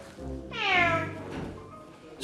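A Tonkinese cat named Cody gives a single close, plaintive meow, rising and then trailing off, sounding discontented.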